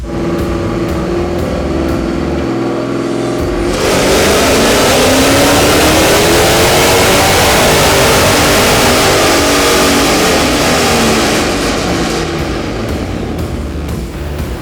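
A naturally aspirated race car engine held at full throttle, roaring loud and steady for the whole stretch with a sharp jump in intensity after the first few seconds; no voices.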